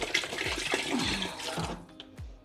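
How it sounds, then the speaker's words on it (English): Water is poured into a gumbo pot in a close, splashing stream, surging in several gulps before tapering off into drips. "And then I'm throwing in the water that needs to come in it."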